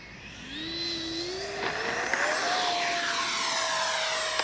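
A Freewing 70mm F-35 RC jet flies past with gear down for landing, its ducted-fan whine rising and sliding in pitch as it sweeps by, loud and steady with no talk.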